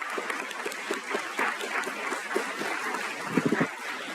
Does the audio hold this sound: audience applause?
yes